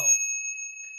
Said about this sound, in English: He's ringing a bell.